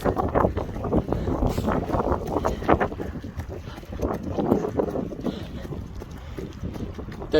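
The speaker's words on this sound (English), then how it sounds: "you look at me now running straight into a headwind" Steady, loud, blustery wind rumbling across the microphone of a runner heading straight into a headwind, continuous and unbroken throughout with no clear talk.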